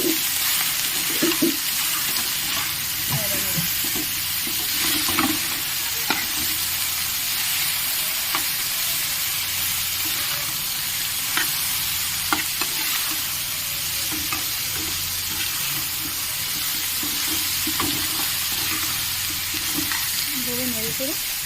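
Taro greens cooked with a hilsa fish head sizzle steadily in a pan while being stirred, with repeated scrapes and knocks over a constant frying hiss.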